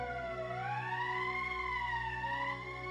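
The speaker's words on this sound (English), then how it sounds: "That's the emergency siren." Rising and falling wail of an emergency siren in the video game Valkyria Chronicles, sustained and steady over a low background hum.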